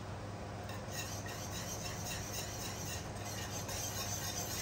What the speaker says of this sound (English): I'll go ahead and whisk this together a little before I add in my water.